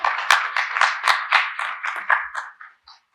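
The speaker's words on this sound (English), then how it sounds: "That was a weak clap." A small audience at a panel discussion claps sparsely and unevenly for about three seconds, the applause thinning out and fading quickly.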